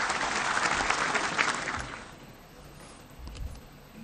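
Applause fills a large hall at a NasDem party congress, a dense crowd clapping loudly for the first two seconds before thinning and fading, with a brief swell near the end.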